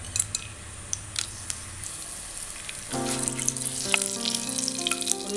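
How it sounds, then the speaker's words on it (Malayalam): Whole cinnamon, cloves, cardamom and bay leaf frying in hot ghee, a soft close crackle with sharp pops, then a steady brighter sizzle from about three seconds on, no talk. "നെയ്യ് ചൂടായി കഴിയുമ്പോഴത്തേക്കും പട്ട, ഗ്രാമ്പു, ഏലക്ക, ബേ ലീഫ് അത്രയും ചേർക്കാം."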